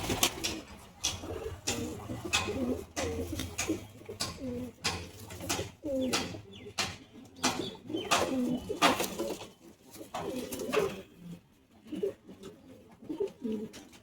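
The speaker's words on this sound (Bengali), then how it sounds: "যে সব পায়রাগুলো এখানে সব বসে আছে।" Pigeons in a loft coo repeatedly, with soft, throaty, overlapping calls close by. Light rustling and occasional wing flutters come from several birds at once.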